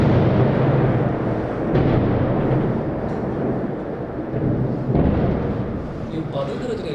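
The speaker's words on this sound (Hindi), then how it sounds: "ये बादल गरज रहे क्या?" Thunder rumbling from clouds: a loud, continuous low roar that swells and fades over several seconds, close and heavy, with no talk on top.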